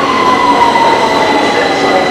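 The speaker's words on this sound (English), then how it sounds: "Every 2 minutes ఇక్కడ కూర్చొని చూడండి, ఇంకొక ట్రైన్ వస్తూ ఉంది." A London Underground train pulls into Green Park station on the Piccadilly line, a steady loud roar of wheels and motors with a faint high squeal running throughout, heard close on the platform with no talk.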